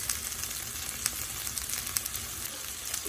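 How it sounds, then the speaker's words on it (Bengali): Onions and chilies fry in a pan with a soft, continuous sizzle, marked by a few brief sharp crackles and pops at fairly low volume. "পেঁয়াজ মরিচগুলো নরম নরম একটা ভাজা হবে"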